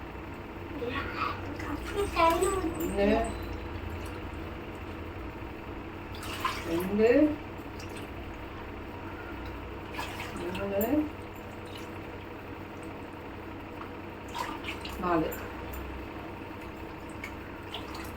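Water poured from a cup into a cooking pot holding two cups of rice, in several separate splashing pours with pauses between them, while a voice counts along.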